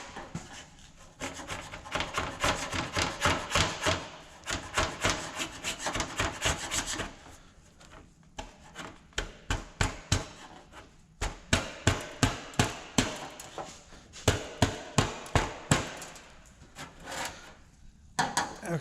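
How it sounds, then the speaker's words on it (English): A gasket scraper grinds Bondo body filler off painted sheet metal in long runs of rough, rhythmic scraping strokes, close and fairly loud, with pauses between bursts and sharper repeated strokes toward the end. "I'll take a gasket scraper and I'll start scraping on this"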